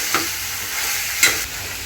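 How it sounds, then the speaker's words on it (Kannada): About a kilo of chicken stir-fried with masala in a pan for chicken fry, a loud, close, continuous sizzle with two brief scraping surges as the pieces are tossed, with no one speaking. "ಮಸಾಲೆ ಮತ್ತು ಚಿಕನ್ನು ಅಲ್ಲಿ ಗಂಟ ಫ್ರೈ ಮಾಡ್ಕೊತೀನಿ."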